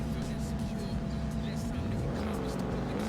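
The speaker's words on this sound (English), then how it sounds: "There's a car over on the left." A car's engine drones steadily nearby in a racing video game, a continuous low growl with shifting revs and a faint tonal whine, heard under someone speaking.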